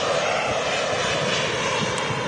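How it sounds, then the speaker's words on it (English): A Ryanair airliner arriving from Berlin about to touch down at Manchester Airport makes a loud, continuous engine roar with a broad, steady rushing tone that holds throughout. "There's an aircraft about to touch down too."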